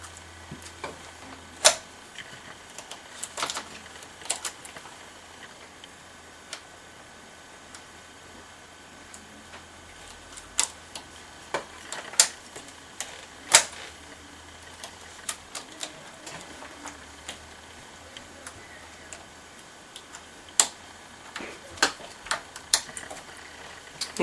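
A Passap knitting machine works through sock rows with decreases, giving faint, irregular clicks and ticks as the carriage passes, each click sharp and sparse over a quiet background hum.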